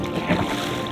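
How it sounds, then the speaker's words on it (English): Water-cooled diesel exhaust on a boat spurting and splashing out the side of the hull, a steady close wash of gurgling water and engine-outlet noise with wind on the microphone, no talking. "I just had to show you that little water exhaust coming out."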